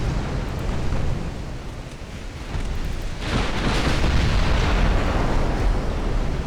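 A ship explodes in the naval warship game UA: Dreadnoughts. The blast is a heavy, sustained rumbling roar that swells louder midway and keeps booming steadily to the end.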